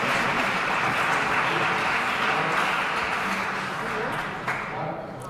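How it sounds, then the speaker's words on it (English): An audience at a Wi-Fi security seminar applauds a speaker with steady, dense clapping that fills the room evenly from start to finish and thins slightly in the last second. "An applause for Yago."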